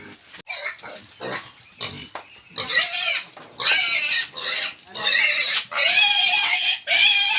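Native pigs and piglets are caught on a farm in the Philippines, letting out loud, close, repeated squeals and shrieks in long bursts, with short gaps between them.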